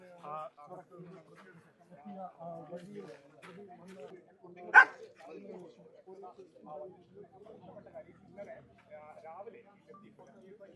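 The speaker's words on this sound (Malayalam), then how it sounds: "ഇപ്പോൾ ഡോഗ് സ്ക്വാഡ് ഇവിടെ പരിശോധിക്കുന്നു" A police dog-squad dog searching a crime scene gives a single loud, sharp bark midway, standing out over steady nearby talk that continues throughout.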